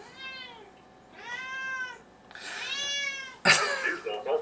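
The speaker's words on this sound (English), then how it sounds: "you start to hear A cat meowing for some silly reason" A cat meows repeatedly, close and clear, in three drawn-out vocal calls, followed by a sharper burst that may be a cough or a voice.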